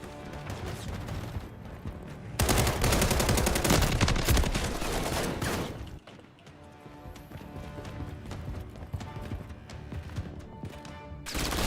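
Heavy gunfire erupts in a video game battle, dense rapid bursts and volleys building to a loud sustained barrage before easing into scattered shots, with hoofbeat-like clatter mixed in.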